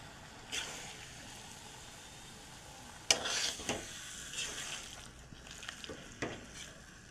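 Chalta pickle being mixed with spices, irregular scraping and stirring strokes with occasional clatter against the bowl, close but fairly soft over quiet background, no voices.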